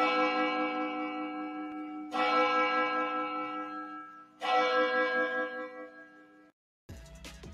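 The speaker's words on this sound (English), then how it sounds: "let's hit that church bell for this young woman" A large church bell struck three times at slow intervals, each toll ringing out and fading, followed by a brief electronic beep.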